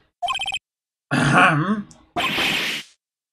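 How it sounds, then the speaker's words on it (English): A throat-clearing sound effect from the Phoenix Wright: Ace Attorney video game, preceded by a short beeping text blip, then two gruff, loud grunting clears in quick succession. "Maybe I should clear my throat."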